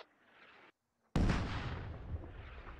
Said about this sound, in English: Militia Mortars are landing about 30 meters behind what they're aiming at